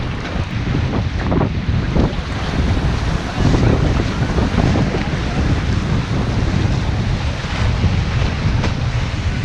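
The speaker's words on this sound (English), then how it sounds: "We've got waves splashing up over the break here." Waves crash and splash over the breakwater at the Red Lighthouse in Grand Haven, Michigan, a steady loud roar of surf churned with heavy wind buffeting the microphone throughout.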